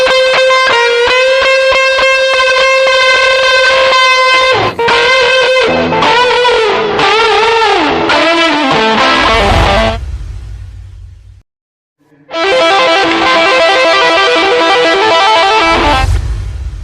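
Heavily distorted electric guitar playing sustained notes and bends, loud and saturated, with a brief drop to near silence before the riff resumes.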